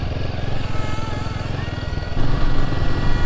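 A Royal Enfield Himalayan motorcycle is ridden over a rough off-road track with a close, steady thumping engine beat that grows louder toward the end, backed by rushing wind.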